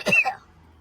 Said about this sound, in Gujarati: તમને ઉધરસ આવવા માંડી છે